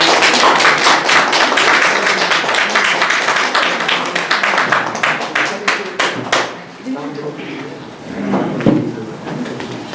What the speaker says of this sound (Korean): 큰 함성과 박수로 맞아주시기 바랍니다.